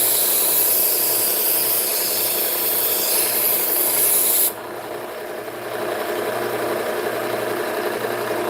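A knife blade drawn in trailing strokes across a sharpening stone gives a steady, close rasping scrape that runs for about half the clip, then drops to a quieter, softer rubbing.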